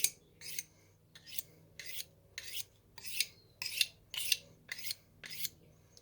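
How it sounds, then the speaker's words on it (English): Grafting knife drawn across a honing stone, about ten evenly spaced crisp scraping strokes, close and fairly quiet, each a short gritty swipe. "Got my honing stone there."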